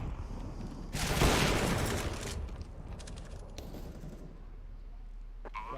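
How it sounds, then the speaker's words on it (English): A grenade blast in Counter-Strike lands as a loud broadband burst about one second in, then tails off into a long rumbling decay beneath steady game noise. "Throwing a grenade."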